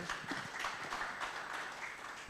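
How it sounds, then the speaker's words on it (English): Audience applause at a media and technology conference panel on AI and democracy, a steady, fairly faint wash of many hands clapping that holds evenly throughout with no voices over it. "Please give him a round of applause."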